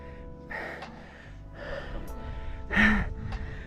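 Heavy, gasping breaths from a hiker climbing Mulayit mountain in Myanmar, several loud, rough inhales and exhales in uneven rhythm, close to the microphone, the last one the strongest.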